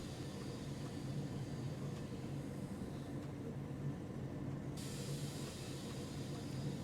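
A Deutsche Bahn class 323 electric train running on London Overground toward Clapham Junction in Train Sim World 3, a steady rumbling cab drone with constant hiss and no pauses.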